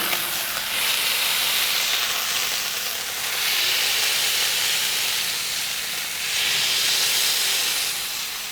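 Thin smashed burger patties sizzle loudly on a hot griddle, a dense, steady hiss close by that swells and eases in slow waves and holds through the whole stretch with no talk.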